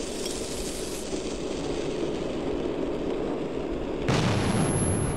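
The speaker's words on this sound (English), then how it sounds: "Let's launch some grenades off here." Grenade explosions in the video game Metro 2033, a loud sustained rumbling blast that roars continuously for about four seconds before a second heavy boom cuts in near the end, with no talking.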